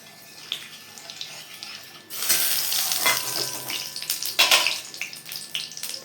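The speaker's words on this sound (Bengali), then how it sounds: "কিছুটা লঙ্কা এর মধ্যে দিয়ে দেবো তেলটা গরম হোক ভালো হয়ে" Washed green chillies dropped into hot mustard oil with black cumin seeds, starting as a faint hiss and then breaking into a loud, close spitting sizzle that crackles unevenly.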